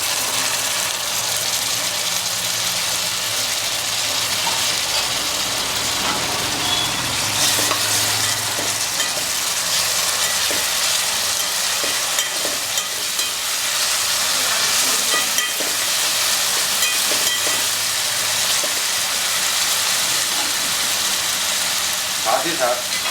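Tomatoes fry loudly with onions in a pan for Jodhpuri bhuna mutton, a dense constant sizzle with occasional scraping stirs throughout.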